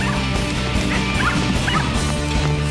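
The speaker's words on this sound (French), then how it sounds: "ils aboient là" Several dogs bark and yip repeatedly at a dog agility club with jumps and tunnels, a dense, continuous chorus of overlapping barks and whimpers at close to moderate distance.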